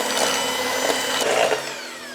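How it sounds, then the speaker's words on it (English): Electric hand mixer whirring steadily through cookie dough for dark chocolate oatmeal cookies, a continuous close motor drone with slight shifts in pitch as the beaters work the mixture. "blend this with a hand mixer for about 1 minute and 30,"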